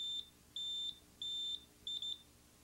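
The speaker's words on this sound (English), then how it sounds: "Pattern data is also checked with the buzzer key. Press the buzzer key. 2 short bleeps for black and 1 long for white." A Brother 930/940 knitting machine buzzer gives a series of clear, high electronic bleeps, a short one followed by longer tones and a quick double beep, sounding alone against a quiet background.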